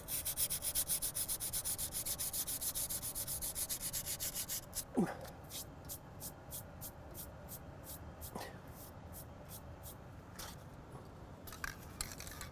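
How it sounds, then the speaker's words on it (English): Sandpaper rubs chipped paint off the steel sector of a SnowDogg snow plow in quick, steady strokes, then slows to scattered scrapes with a few faint clicks. It sounds close but fairly quiet. "So what I'm going to do is just sand it down a little bit."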